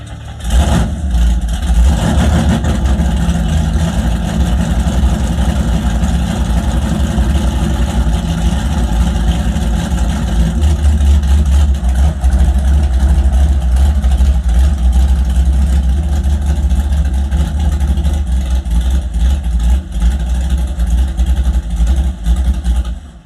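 A Chevrolet Camaro's engine, with its distributor locked out, idles loudly and close up without revving, a deep steady rumble lasting over twenty seconds with a brief blip near the start.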